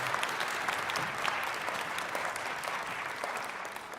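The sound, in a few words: audience applause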